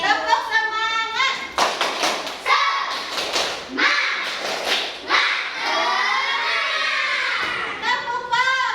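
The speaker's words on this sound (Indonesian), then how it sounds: "coba kita tepuk semangat dulu" A classroom of children performs the 'tepuk semangat' clapping chant, sharp rhythmic claps and thumps in quick patterned bursts mixed with loud chanted voices, a teacher's voice leading at the start.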